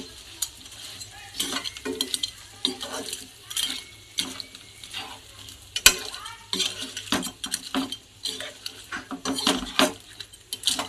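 Crab pieces are tipped into cooked potatoes and stirred in a pan, giving a string of scraping, clattering spoon strokes over a soft sizzle, close and uneven with one sharp knock midway.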